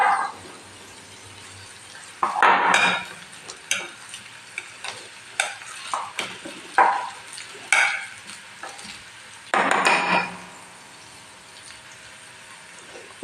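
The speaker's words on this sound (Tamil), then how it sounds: "கட்டி இல்லாமல் நல்லா இந்த மாதிரி மசிச்சு வச்சுக்கோங்க." Boiled potatoes are mashed in a vessel for a masala dosa filling, giving irregular squelching presses and scrapes, some louder bursts among quieter taps, close by with no talk.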